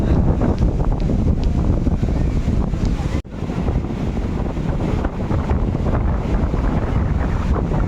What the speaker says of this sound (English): Even it's so windy and wavy.